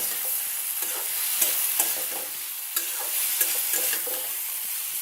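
Chopped tomatoes are stirred in a hot pan, with soft irregular scrapes and clicks over a continuous bright sizzle.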